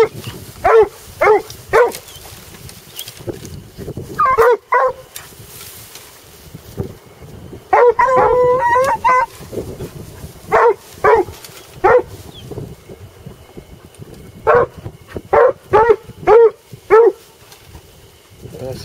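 Hunting dogs baying after a raccoon in the woods, loud repeated barks and yelps in irregular bursts throughout, with someone talking between them.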